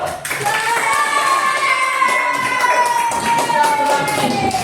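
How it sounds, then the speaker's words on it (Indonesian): A classroom group claps together after a student group presentation during a teaching session, a brisk burst of hand clapping from children that carries steadily for a few seconds, with faint voices mixed in. "Tepuk tangan dulu."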